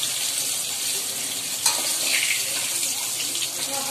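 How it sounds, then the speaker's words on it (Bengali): Potatoes fry in a pan of oil rendered from vetki fish, giving a loud, steady sizzle and crackle with a brief clatter partway through. "এই তেলেই আমি আলুগুলো ভেজে নিচ্ছি"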